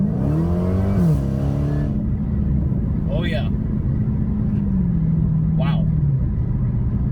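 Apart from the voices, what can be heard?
Dodge Challenger Hellcat with Dynomax Race Bullets exhaust accelerating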